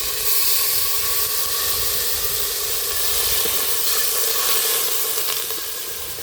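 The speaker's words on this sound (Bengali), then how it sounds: "ওই তেলের মধ্যে বেটে রাখা মশলা দিয়ে দেবো।" Ground spice paste sizzles loudly in hot oil left from frying potatoes, part of a home-style chicken biryani. The hiss runs steady and close for the whole stretch, easing slightly at the end, with no talking.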